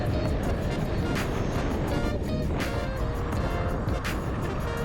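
Steady road noise from a car cruising on an open highway heading out of Gurgaon toward Jaipur, a continuous broadband rumble with occasional whooshes of passing vehicles, no talking.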